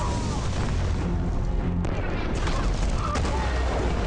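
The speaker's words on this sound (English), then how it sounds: "Oh, he starts shooting at me." Rapid enemy gunfire and booming blasts in the Batman: Arkham Knight video game fill the whole stretch, loud and dense, with bursts of shots over a constant rumble.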